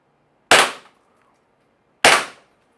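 A Salt Supply S2 pepper ball launcher fires two sharp, loud pops about one and a half seconds apart, each with a short fading tail and silence between.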